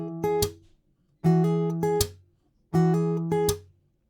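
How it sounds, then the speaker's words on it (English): Acoustic guitar played singer-songwriter style, with the strumming hand slapping a snare-like backbeat: three repeating bars of strummed chords broken by sharp percussive hits, close and clear, no talking. "then comes the singer-songwriter snare"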